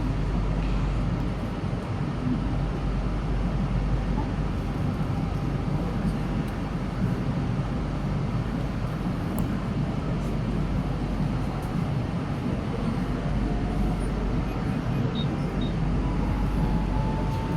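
An Indonesian-made KRL commuter train heard from inside on the Jakarta line near Depok Baru, giving a steady low rumble and rolling noise throughout with faint squeaks and no clear speech.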